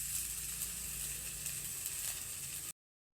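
Spices frying in oil for eggplant bharta give a steady, close sizzle with a bright hiss that runs unbroken for nearly three seconds before cutting off abruptly.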